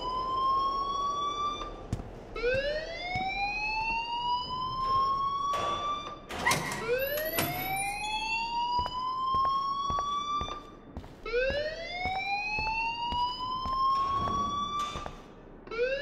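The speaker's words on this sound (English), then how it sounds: "please turn off that alarm since that's your job" A video game alarm wails in repeated rising sweeps, loud and close, each whoop climbing in pitch and then cutting off, with several cycles over the span and sharp clicks and bursts scattered between them.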